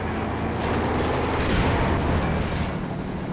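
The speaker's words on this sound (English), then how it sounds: "Allowing the bazookas to maybe get an extra volley or two" Dense, sustained gunfire and explosive bursts from bazooka volleys in a Company of Heroes 2 battle, a continuous loud roar of overlapping shots and booms with no speech.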